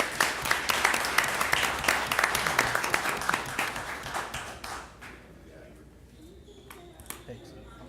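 Audience at a city mayor and council meeting breaks into dense, loud applause lasting several seconds, then thins out and fades to a few scattered claps and room noise.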